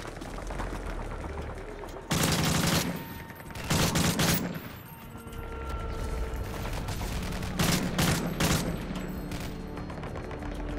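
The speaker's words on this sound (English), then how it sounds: "Only it's not an IED this time, it's freaking gunship fire instead" Gunship fire in a combat video game: heavy bursts of rapid gunfire and booming impacts come in two loud volleys separated by a quieter stretch of distant rumbling shots.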